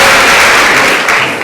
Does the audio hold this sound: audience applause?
yes